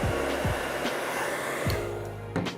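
A heat gun blows a steady, close whooshing stream of hot air onto the adhesive under the grip of a Spektrum radio transmitter, with a few faint knocks from handling.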